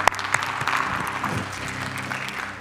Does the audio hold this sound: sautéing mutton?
no